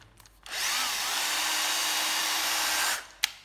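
An old used cordless drill from Japan, with an 8-step speed clutch and a drill setting, whirs steadily for about two and a half seconds at a constant high pitch, then winds down, followed by a sharp click.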